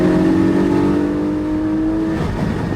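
A Porsche 718 Spyder's bored-out 4-litre, 420-horsepower flat-six from a 992 Carrera hums loud and steady at a sustained rev, a strong droning tone that eases slightly near the end, with no talking.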